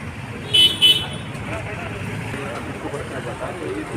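Cars arrive at a court compound amid traffic noise, two short horn toots early on above a steady road hum, with faint background voices.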